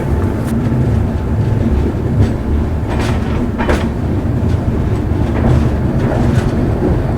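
The 12964 Mewar SF Express pulls out of Gangapur City junction, a continuous loud rumble of rolling carriages with faint rail clicks and rattles inside the coach, no voices.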